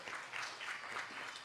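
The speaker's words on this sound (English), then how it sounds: "Give yourself a round of applause." A graduation ceremony audience claps in a brief, faint, distant round of applause with an uneven patter.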